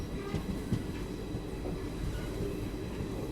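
A passenger train on the Mandsaur–Kota Express route runs along the tracks just after leaving Nimbahera railway station, giving a steady, low rumble of moving carriages with faint rhythmic wheel clatter, heard from inside, with no talking.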